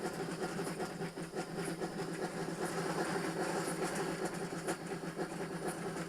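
A model N gauge train's sound-card engine sound runs continuously, a steady mechanical hum with faint rhythmic clicking, fairly quiet and with no talk over it.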